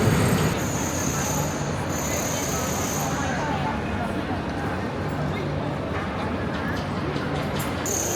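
Valencia North train station, an old station under construction, fills with a loud, steady wash of rail noise and crowd babble. Faint metallic squeals and clanks rise over the constant din, and people talk throughout.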